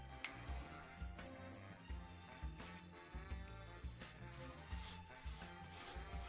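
Wax is rubbed by hand into whitewashed wood grain, making close, continuous scrubbing strokes that swell and fade in a steady rhythm.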